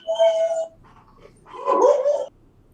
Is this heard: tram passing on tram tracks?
no